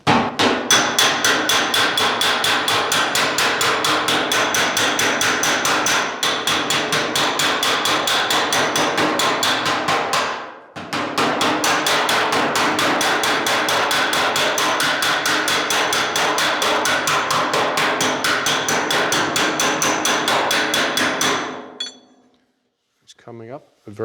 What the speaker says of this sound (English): What I'm going to do is switch over to the slapper.